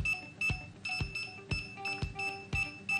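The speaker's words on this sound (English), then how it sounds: "The remote controller will beep quickly and display binding on screen." A DJI Mavic Pro remote controller beeps during binding, a quick regular series of sharp electronic beeps about twice a second, close and clear with no talk.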